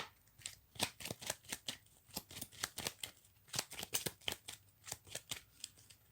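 Playing cards shuffled repeatedly during a tabletop board game, a steady run of crisp riffling bursts, close and fairly quiet, with no talking.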